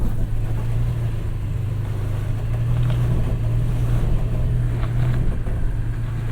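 A Ford Maverick's engine drones steadily and loudly under strain as it tows a stuck Toyota Tacoma TRD Pro, a constant low hum with rumbling noise and no break in the pull.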